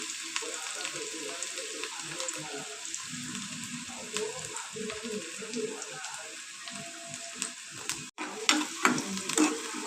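Onion frying in medium-hot oil in a pan, a soft continuous sizzle with intermittent stirring scrapes that grow sharper and louder toward the end, heard up close.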